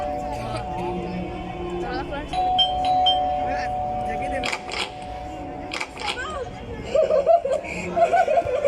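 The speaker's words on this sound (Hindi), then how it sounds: "सबा जोया के घर की डोरबेल बजाती है।" A doorbell chimes with a sustained electronic tone during a school annual function drama, amid a busy background of voices and light laughter.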